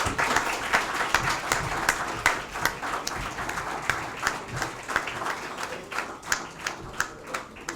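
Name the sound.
audience applause at a conference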